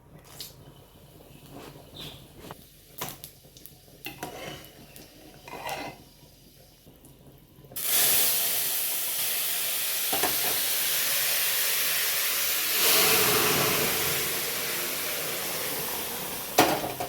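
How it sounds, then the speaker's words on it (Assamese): Hot oil for tempering with chillies sizzles loudly and steadily in a pan at close range. Quieter clinks and movement come first, and the hiss then holds strong for the rest of the clip. "আনফালে চম্ভাৰ মাৰিবৰ কাৰণে তেল গৰম মাৰিছোঁ"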